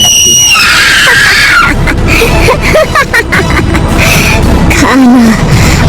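A loud, shrill woman's scream rings out over a dense, noisy background with murmuring voices and wavering tones.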